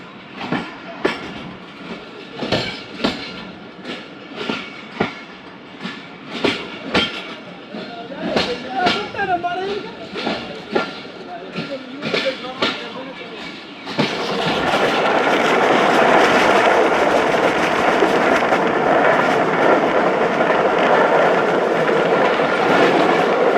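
Khyber Mail passenger train running on rails, with steady clickety-clack wheel beats and rail rumble up close, rising to a loud continuous roar partway through as the coaches pick up speed.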